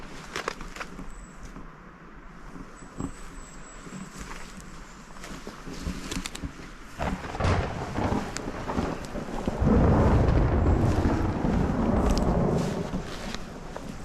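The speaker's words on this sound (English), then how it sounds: "You might be able to hear that, the thunder." Thunder rumbles during a storm at an outdoor campsite, starting as a faint background murmur and building to a deep, louder rolling swell near the end, with scattered close rustles and taps over it.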